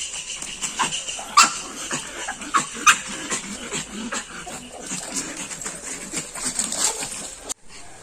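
A pug puppy whimpers and whines in short, high, uneven cries, close by, with soft yips scattered over about eight seconds.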